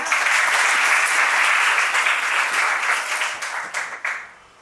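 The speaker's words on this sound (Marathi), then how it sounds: "ओटीएच्या या सगळ्या लेडी कैडेट्ससाठी आपण जोरदार टाळ्या देऊया" An audience gives loud, dense applause for the lady cadets trained at the Officers Training Academy, Chennai, sustained and close before thinning into scattered claps and fading out.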